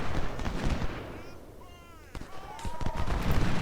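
Rifle volleys from the Civil War strategy game Ultimate General: Civil War crack out in sharp, scattered bursts over a dense rumbling battlefield din, with several distinct shots near the end.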